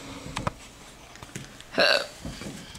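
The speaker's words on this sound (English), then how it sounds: "Hiccup." A child's hiccup in a home setting after a painting session, a few short sharp catches with one stronger hiccup near the middle, close and fairly loud, with no talk.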